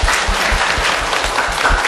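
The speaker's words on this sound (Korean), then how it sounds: "박수 부탁드립니다" An audience at a literary reading and author talk claps steadily and fairly loudly, a brief dense burst of applause with no voices over it.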